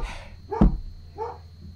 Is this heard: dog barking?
yes